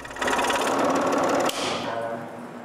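A wooden letter is sawn in two with a steady, loud buzzing power saw that cuts off sharply partway through, leaving a quieter whirring tail.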